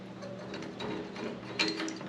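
A part of a fuel regulator is unscrewed on the bench, giving a close, quiet run of fine ratcheting, clicking mechanical sounds over about two seconds.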